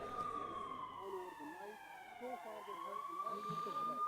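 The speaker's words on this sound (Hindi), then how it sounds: "देखिए अमृतसर में सुबह लगभग 10 मिनट तक सायरन बजता रहा।" An air raid siren wails over Amritsar in a steady, rising and falling tone, moderately distant and partly under speech.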